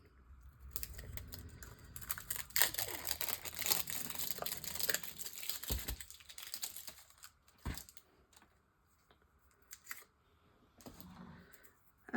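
A roll of stickers being opened, with dense crinkling and tearing of plastic wrap and paper close by, busy for several seconds and then easing into scattered softer rustles and a few sharp clicks.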